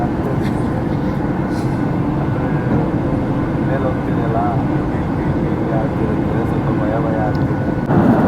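Steady loud roar of a passenger airplane cabin during descent and landing, a constant engine and air rush filling the whole stretch with no break.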